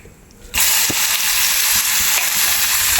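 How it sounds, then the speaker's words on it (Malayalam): Prawns and small shallots sizzle in a hot pan, a loud steady frying hiss that starts abruptly after a brief quiet moment and continues without pause. "അപ്പോൾ നമ്മൾ അതിനകത്തേക്ക് നമ്മുടെ ചെമ്മീനും ഈ ചെറിയ ഉള്ളിയും കൂടെ ഒന്ന് ചൂടാക്കുകയാണ്"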